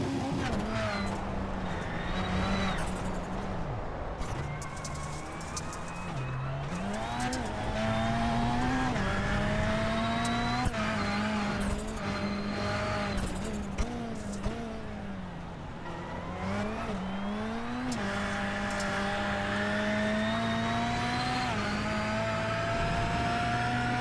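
Onboard sound from the race-leading Rallycross Lites car at Daytona, engine revving hard and loud throughout with rising and falling pitch through gear changes, plus occasional tyre scrabble and bumps, close and continuous.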